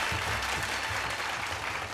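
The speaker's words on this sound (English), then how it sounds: "Ladies and gentlemen, a huge round of applause for the very beautiful" A crowd claps for a singer at an awards show, a brief burst of dense applause that holds steady, with some low-pitched sounds underneath.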